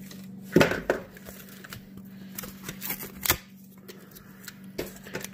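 A utility knife cuts through foam for scratch-built bridge abutments, producing close, dry scraping and crunching strokes with a few sharper snaps, intermittent over a faint background hum.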